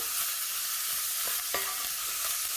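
Chopped onions sizzling in hot oil while being stirred, a quiet hiss with a few light scraping knocks from the spoon, no talking.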